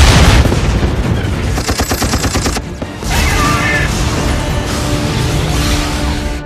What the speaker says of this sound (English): I'm actually surprised how much is exploding on the ship.